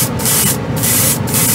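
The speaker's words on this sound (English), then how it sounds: "Oh, it sprays the Vallejo all right." Vallejo paint sprays from a Harder & Steenbeck Colani airbrush in a close, loud, steady airy hiss, broken by two brief dips where the airflow cuts off momentarily.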